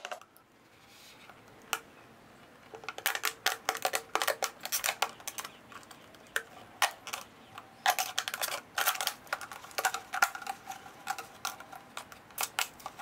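A plastic bottle is cut by hand outdoors while building a turtle pond filter, giving bursts of sharp crackling snips and crinkles that start sparse and grow into rapid irregular clusters, close but fairly quiet.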